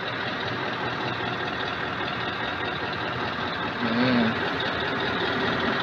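Scania R 580 truck with a V8 engine running steadily at close range, a continuous broadband engine roar that holds level throughout with a slight swell near the end.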